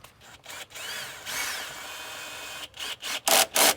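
A power tool drives bolts back in while fuel injectors are replaced on an LS engine, giving several short bursts of whirring, with quieter gaps and a final cluster of louder, close pulses.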